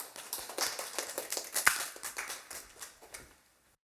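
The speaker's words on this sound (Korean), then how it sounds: "큰 박수로 우리 환영하도록 하겠습니다" Applause from a church congregation welcoming a pastor to the pulpit at a Korean prayer meeting: a fairly faint, steady patter of many hands clapping for a few seconds before thinning out and stopping.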